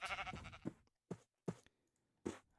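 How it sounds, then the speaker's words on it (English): Sheep in the video game Minecraft bleat several times in short, close, bursts separated by silent gaps, a cluster at the start followed by three separate calls, with no talk over them. "Oh, sheep. Punch the sheep!"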